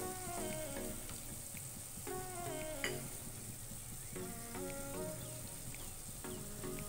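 Ginger garlic paste and soy sauce being stirred into a hot pan for paneer momo filling, a steady sizzle and frying hiss with intermittent scraping and clinks of a spoon against the pan, close and continuous.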